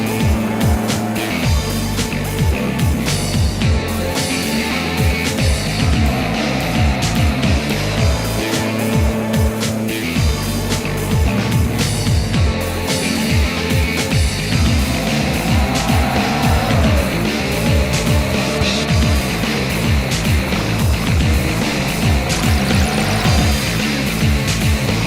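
A front-wheel-drive Fiat in the Forza Motorsport 3 racing game, its engine revving up and down steadily as it corners, with tire squeals and skids mixed in, loud and continuous.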